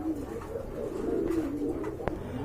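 A grizzle pigeon coos softly in a low rolling call, fairly quiet against faint background noise, with a brief sharp click near the end.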